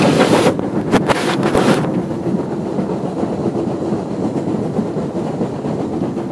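A Cardwell steam train runs fast along the rails, its loud, steady rumble and rattle dominating, with brief sharp clacks early on and heavy wind buffeting the microphone throughout.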